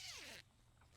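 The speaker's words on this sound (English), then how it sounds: "And then they just have a zipper" A zipper on a mesh garden plant cover is pulled open in one quick, close, rasping sweep that lasts under half a second and then cuts off into faint background.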